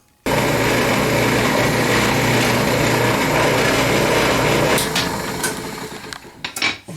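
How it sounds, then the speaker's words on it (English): A drill press bores holes into a wooden Native American flute, its motor whining in a steady, loud drone that tapers off into a few sharp knocks and taps near the end. "Let's drill them out."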